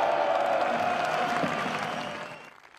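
A huge crowd of more than ten thousand people applauding and cheering at a rally for Geert Wilders, a loud, sustained roar of clapping and shouts that fades away near the end.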